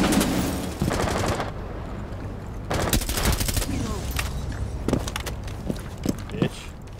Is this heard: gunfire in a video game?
yes